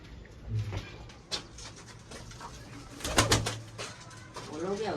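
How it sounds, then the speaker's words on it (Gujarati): Pigeons in a loft give soft, low cooing calls in short bursts, near and fairly quiet, mixed with scattered sharp clicks and rustles of movement around them. "લાજવાબ કબૂતર છે ભાઈ બધા."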